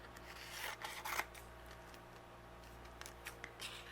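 Scissors trimming a paper panel for a handmade window card, a few soft snips close by in a quiet room, the first cuts clustered early and lighter ones near the end.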